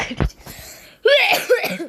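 A single sharp cough rings out up close, followed by a brief voice that breaks in right after.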